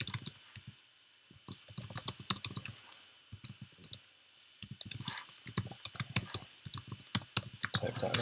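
Computer keyboard keys clatter in quick bursts as an answer is typed into an online virtual genetics lab. The clicking is close and crisp, with short pauses between runs of keystrokes and no talking.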